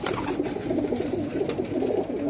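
Female slate-colored pigeon cooing up close, soft repeated throaty coos in a steady murmuring rhythm over a short stretch.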